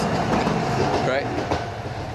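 A train passes close by with a loud, continuous rumble and rattling clatter of wheels and cars that fills the whole moment without a break.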